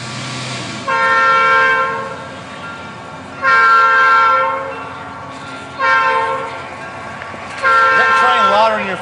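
A passing train sounds four long, loud horn blasts at a steady spacing, each holding for about a second or more, with rumbling in between.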